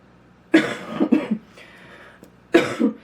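Two rough, close coughs from a cold, each a short burst with a quick follow-up rasp, separated by a brief quiet pause.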